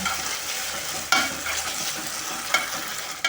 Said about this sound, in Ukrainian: Перемішуємо і продовжуємо тушити.